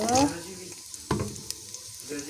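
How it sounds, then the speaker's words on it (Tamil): Mustard seeds and fennel seeds frying in a pan for a fish curry, with a loud opening sizzle and spatter, then quieter crackling and a few scraping stirs. "கடுகு பெருங்கீரகம் ரெண்டு நிமிஷம் விட்டுட்டு கிண்டி போட்டு"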